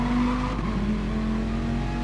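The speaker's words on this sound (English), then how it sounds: "This Viper does sound good." A Viper race car in a racing video game roars at sustained high revs with a steady engine whine and some tire noise, loud and close with no speech.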